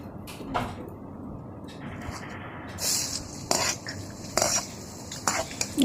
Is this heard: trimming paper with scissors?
no